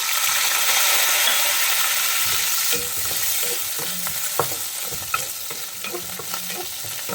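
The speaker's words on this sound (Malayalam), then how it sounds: "എല്ലാം കൂടി നന്നായിട്ടൊന്ന് ഇളക്കി കൊടുക്കാം." Beef frying in a pan with slit green chillies and garlic, Kerala style, being stirred: a steady loud sizzle with repeated scraping and clacking of the spoon, close up, with no talk.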